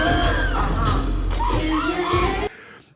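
A big concert crowd at a show screams, whoops and yells in a loud, dense roar that swells and dips, then drops away abruptly near the end.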